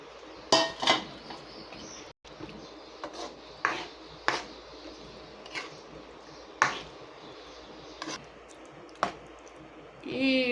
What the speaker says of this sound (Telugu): మష్రూమ్స్ని ఇలాగా కలుపుకొని